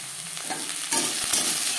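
Broccoli lightly frying with turmeric, salt, ginger paste and green chilli paste crackles and sizzles steadily up close, with a few scraping stirs and soft knocks in the pan.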